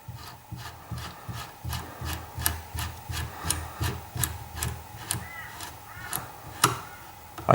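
Grizzly muzzle brake being screwed onto rifle barrel threads, a run of quick, evenly repeated close metallic scraping clicks with no talk.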